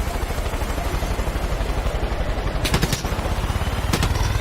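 In the video game Far Cry 5, loud bursts of rapid gunfire aimed at a helicopter break out over a constant rotor thump and engine drone, two separate volleys with the helicopter still throbbing between them.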